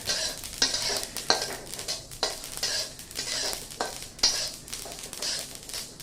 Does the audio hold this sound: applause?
no